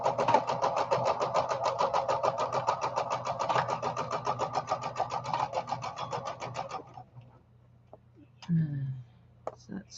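A home sewing machine stitching in a fast, even run of mechanical clicks for several seconds, then stopping, followed by a few scattered faint knocks and handling sounds.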